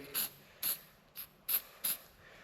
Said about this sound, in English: Apply just a little bit.